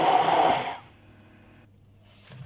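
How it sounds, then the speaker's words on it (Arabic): A kitchen blender grinds the ingredients for a chicken marinade, running loud and steady for under a second before cutting off, leaving near quiet with a faint clatter at the end. "وغادي نطحن الكل حتى يطحن ليا دوك العناصر"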